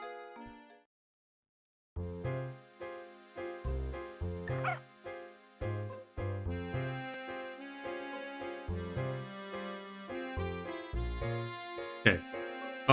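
A dog barks repeatedly in the Professor Layton and the Curious Village video game, its yips set against bouncy plucked game music with a steady rhythmic pulse.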